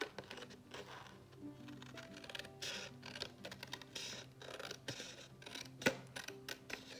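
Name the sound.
trimming paper for a mini album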